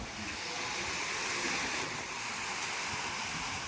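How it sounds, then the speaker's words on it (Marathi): Sea waves at high tide along a shore set up for Ganesh idol immersion, a steady broad wash of surf with wind, continuous and fairly loud with no clear voices. "भरती पण चालू आहे मित्रांनो पाणी खूप जास्त आहे"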